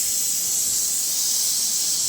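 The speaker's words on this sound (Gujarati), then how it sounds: "બટેકા આપણા બફાઈ ગયા છે તો આપણે એને વઘારી નાખશું." Boiled potatoes are being tempered in hot oil, giving a loud, steady, close hiss and sizzle that holds evenly throughout without pauses or voices.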